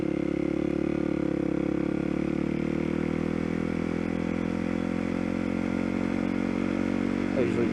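A motorcycle rides along the road to Red Rocks with a steady, droning engine hum and rushing wind, continuous and close throughout.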